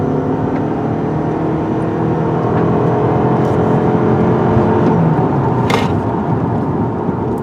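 A 2018 Toyota Camry Hybrid accelerating, heard as a steady, loud whirring engine and road rumble from inside the car with a few brief clicks and ticks over the top.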